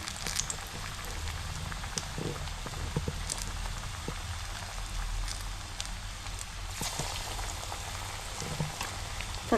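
Chana dal punugulu, round balls of batter, frying in a shallow amount of hot oil, giving a steady close sizzle with scattered pops and crackles throughout.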